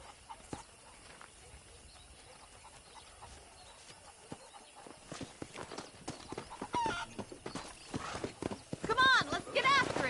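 Hooves clip-clop steadily as horses move along in the video game Red Dead Redemption, growing louder and busier toward the end, with a horse whinnying and people talking over it.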